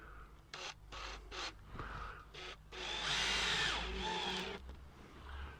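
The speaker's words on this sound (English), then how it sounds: "just pop a couple of screws in to the fixing" Power drill driving a couple of screws into a fixing in a garden setting: short whirring bursts, then a longer sustained spin, close and fairly quiet.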